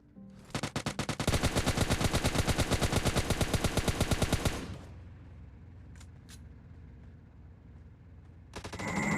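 Rapid burst of S12K shotgun fire in PUBG Mobile Lite, a loud dense volley of closely spaced blasts lasting several seconds, then quieter game ambience before another loud burst near the end.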